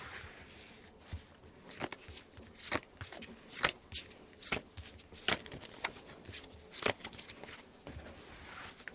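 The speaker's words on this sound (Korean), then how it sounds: "자, 그럼 카드를 뽑아보고 더 이야기를 해보도록 할게요" Tarot cards being shuffled and drawn, a run of crisp papery riffles and slaps repeating in an uneven rhythm, close and fairly quiet with no talking.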